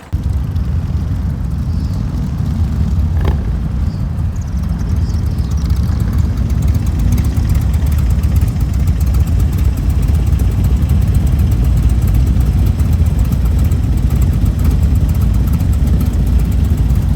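A group of motorcycle engines rumbles loudly and steadily, a thick low drone of several bikes pulling away together with no voices.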